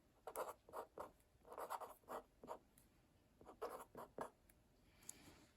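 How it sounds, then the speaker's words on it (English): Pen or pencil scratching on paper while a label is written, in short rhythmic strokes with brief pauses, close and fairly quiet. "I'm going to write the word crater"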